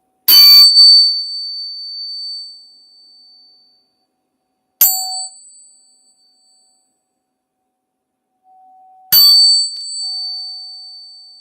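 A tuning fork is struck three times, spaced a few seconds apart, each bright metallic tone sustaining and slowly fading into silence.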